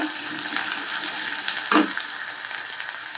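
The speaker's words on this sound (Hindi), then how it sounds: "खड़ी लाल मिर्च डालेंगे और कुटी हुई लहसुन डालते हैं। इसको अच्छे से सोते करते हैं" Whole red chillies and crushed garlic fry in a pan on a medium gas flame, giving a steady close sizzle. A brief scrape of stirring sounds partway through, and no one speaks.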